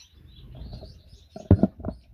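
Moluccan mannikins in an outdoor aviary give a few soft, brief chirps over faint background rustle, with one louder burst of calls near the end.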